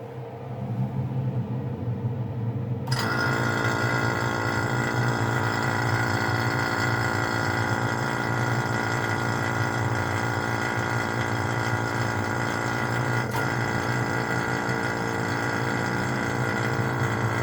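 A vacuum assist pump switches on and runs as a loud, steady droning hum with a low rumble, continuing unbroken without speech.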